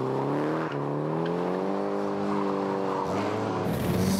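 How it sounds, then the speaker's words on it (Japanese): Several drifting cars slide together on a slippery surface, tires squealing in long sustained wails over revving engines, loud and close, with a burst of louder skid noise at the end. "団体ドリフト行ってみよう。"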